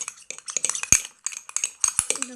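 Slime mixture being stirred with a utensil against a container, a run of quick scraping clinks and taps with a couple of sharper knocks, close and fairly loud, no voices.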